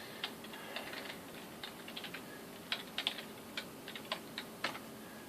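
Keys pressed on a computer keyboard while a root password is entered during a NetBSD installation, a brief irregular run of soft, close clicks with short pauses, alone in a quiet room.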